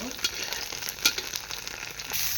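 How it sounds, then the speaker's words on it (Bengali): Carrots frying in oil in a pan make a steady, close sizzle with occasional sharper crackles and pops throughout. "এখন ভাজা করে নিই গাজরগুলো আমি ভালো করে।"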